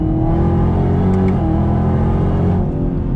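A 2019 Chevrolet Camaro ZL1 with a 10-speed automatic accelerates under throttle, its engine droning loud and close with a steady deep rumble and a slight pitch shift midway.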